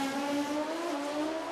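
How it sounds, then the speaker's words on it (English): Nitro drag racing motorcycle engine at a FIM NitrOlympx event, revving in a steady loud high-pitched drone for a short moment, close and alone without talk. "Brings the revs up."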